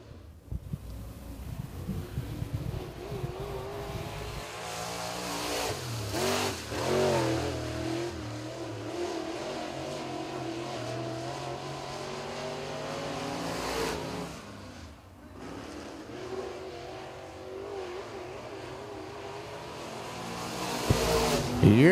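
Crate late model race cars lap 411 Motor Speedway, engines droning and rising as they pass, swelling and fading over a steady roar with a closer surge at the end, while an announcer talks over the track noise.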